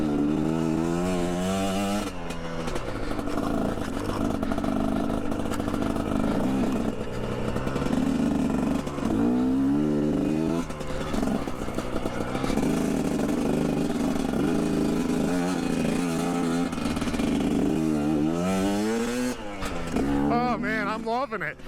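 A 2021.5 GPX Moto TSE250R motorcycle engine droning loudly throughout a ride, with rising and falling pitch as it revs through the gears, under wind noise.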